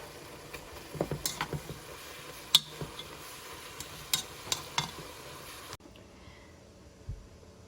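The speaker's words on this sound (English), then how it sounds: "Once the beef is almost cooked all the way, go ahead and add the onion. And then cook it a little longer." Ground beef and onion cook in a pan for chili: a low sizzle with stirring scrapes and a few light clinks, before the sound cuts to near silence late in the clip.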